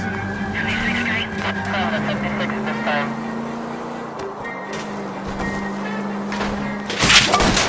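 A car chase in the video game L.A. Noire brings a steady engine drone with skidding tyres and a few thuds, ending in a louder crash-like burst; people talk over much of it.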